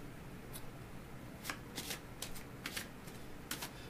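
Romance Angels oracle cards are shuffled quietly by hand, brief crisp riffling bursts repeating irregularly over a soft steady background hiss.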